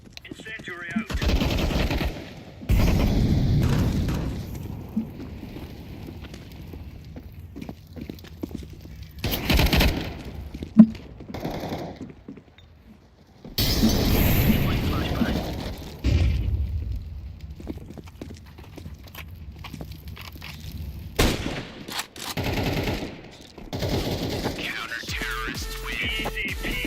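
Gunfire and explosive bursts from a first-person shooter game after a grenade is thrown, with loud broadband blasts and rattling shots separated by quieter gaps, heavy thumps at several points, and a player's voice occasionally audible.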